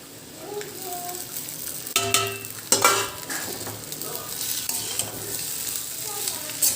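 Potatoes fry in a Wonderchef kadai, browning for sabudana khichdi, with a steady sizzle and intermittent scraping stirs and utensil clinks against the pan. A faint voice murmurs briefly.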